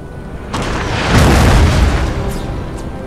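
A deep cannon boom rolls out in Napoleon Total War, a single heavy low rumble that swells after a second and slowly fades, with faint distant cracks behind it.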